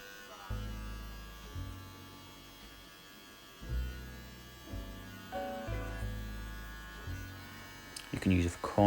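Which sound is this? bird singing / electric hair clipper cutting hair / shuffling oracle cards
electric hair clipper cutting hair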